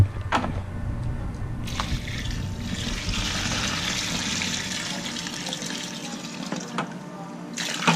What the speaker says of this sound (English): we're going to dump in some water